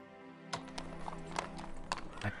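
Game horse hooves clip-clopping at a walk in Strategic Command's Mexican-American War, a steady series of soft hoof knocks over a low droning music bed, with a faint whinny-like tone near the end.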